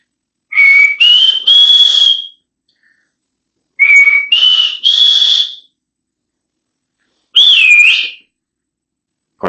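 A person whistles in imitation of the Punisher's whistle, three loud, close phrases of rising tones separated by short silences.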